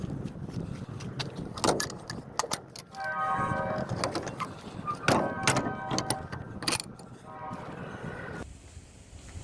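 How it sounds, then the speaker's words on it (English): Heavy trailer doors on a reefer truck trailer being swung and shut, several loud metallic bangs and latch clanks spread across the clip, with a rattling hum between them. "So I left the trailer doors open through the night. Now I'm going to close them"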